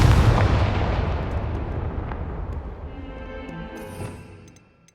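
A Confringo fire spell from Hogwarts Legacy bursts in a loud, heavy explosion that rumbles on and fades over several seconds, with a few faint sparkling chimes near the end.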